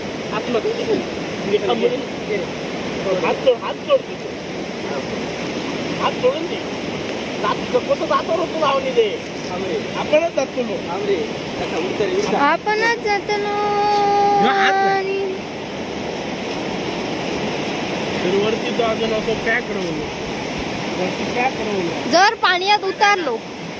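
Rain-swollen water rushes and churns in a steady broadband roar throughout, with people talking over it at times.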